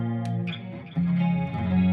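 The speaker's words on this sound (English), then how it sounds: "I'm going to be starting off on a clean patch. So it'll be sounding like that" A clean guitar patch running through a Line 6 HX Effects unit with delay, sustained chords ringing out with a short gap near the middle, then rising again, played alone without talk.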